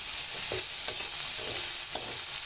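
Chicken momo filling with coriander leaves is stirred in a hot pan, a steady sizzling hiss broken by several soft scraping strokes of a spoon, close and without voices.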